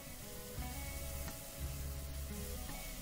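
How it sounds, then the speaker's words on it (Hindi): Spices fry in hot oil with cabbage and potato for a dhaba-style patta gobi aloo sabzi, a continuous soft hiss and sizzle that stays even throughout. "तो बेसिकली यहाँ पर मसाले को हमें बहुत अच्छे से भूनना है।"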